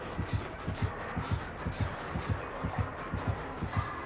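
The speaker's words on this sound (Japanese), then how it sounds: "でも結構心音うるさいよねこれ" Killer terror radius heartbeat in Dead by Daylight: a steady, fast double-thump pulse repeats throughout, low and prominent over a hissy background bed of game ambience.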